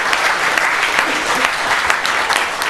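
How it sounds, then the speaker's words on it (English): Sustained audience applause at an evening Black History Month celebration in a city hall, following a choir's performance; steady, dense clapping from a sizable indoor crowd, loud and continuous throughout. "Let's give them another round of applause for that wonderful rendition,"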